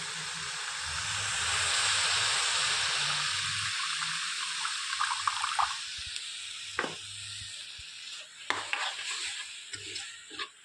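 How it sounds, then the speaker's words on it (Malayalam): Squeezed tamarind water poured into simmering sambar in a home kitchen, a soft steady watery hiss with light stirring clicks and scrapes, close and fairly quiet, no talk. "അങ്ങനെ നമ്മളിതിലേക്ക് പുളി പിഴിഞ്ഞത് ഒഴിക്കുകയാണ്."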